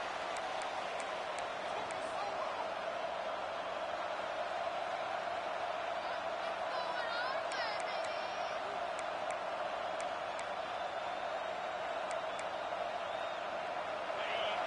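Steady crowd roar from a college football video game, a dense continuous wash of stadium noise holding level throughout with brief whistle-like cheers rising above it.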